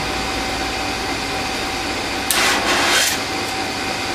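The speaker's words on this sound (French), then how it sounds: "Alors, je vais allumer la flamme." An HHO dry cell torch runs under a steady loud hiss of gas, then a brief whooshing burst as the flame is lit and flares before settling back into the constant rushing noise.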